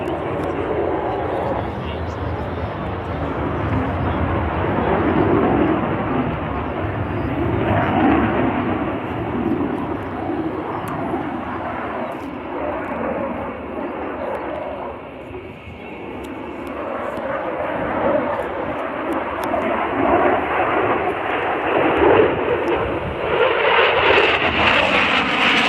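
A Saab Gripen jet fighter from the flight test fleet in a special paint scheme makes a low-speed display pass at an airshow, its engine roar swelling and fading over about 25 seconds beneath continuous commentary.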